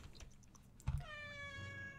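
A cat meows close by, a single drawn-out call that rises and then settles, with a short soft thump just before it over quiet room tone.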